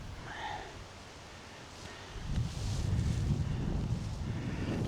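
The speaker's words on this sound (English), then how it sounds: "There's hardly any wind at all this morning, and now it's just blowing." Gusting wind near a bridge over water rumbles low and buffets the microphone, faint at first and then rising into a steady, heavier roar through the second half.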